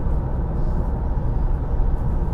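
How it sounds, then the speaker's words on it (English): Steady broadband wind and tyre roar inside a Vauxhall Insignia CDTI Sports Tourer cruising at about 70 on a windy day, continuous and moderate with no talk. "there's a little bit of wind noise and tyre noise"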